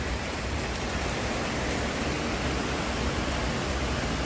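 Steady rain falls outside a home, a dense continuous hiss that stays even and fairly loud throughout, with no voices.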